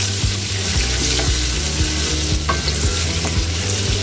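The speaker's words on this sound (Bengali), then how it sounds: "এখন আমি আলুগুলোকে ভালো করে ভেজে নিব।" Potato pieces fry in hot oil with turmeric and chilli powder for aloo dum, a loud close sizzle broken by repeated rhythmic scrapes of a spatula stirring through the pan.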